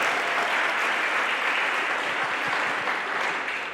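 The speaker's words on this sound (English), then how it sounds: "Big round of applause for Katie." A hall-of-fame induction crowd applauds warmly for an inaugural athletics inductee, a dense, continuous clapping from a large audience in a pavilion that holds steady throughout and tapers slightly at the end.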